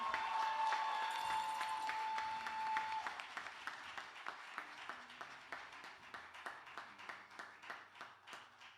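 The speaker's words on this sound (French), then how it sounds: "Applaudissez s'il vous plaît" Audience at a Fête de la Musique concert applauds, a dense crowd clap over a fading sustained tone that gives way to rhythmic unison clapping in steady beats, moderately loud.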